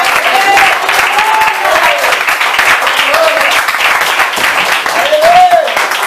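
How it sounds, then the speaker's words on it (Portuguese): A church congregation claps continuously in a dense, energetic round of applause, with voices calling out and cheering over it throughout. "Dê uma salva de palmas para Jesus."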